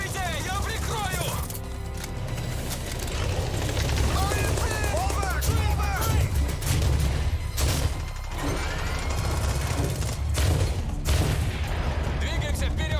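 Video game trailer gunfire, repeated bursts and heavy booms scattered throughout, loud and dense, with shouted voices in between the shots.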